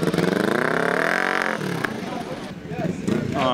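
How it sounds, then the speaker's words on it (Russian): A crowd of motorcycles on Santa Monica pier, with one engine revving and rising in pitch before settling to a rumbling idle, fairly close, partly under someone talking. "Поднялись на пирс, здесь что-то происходит, очень много байков."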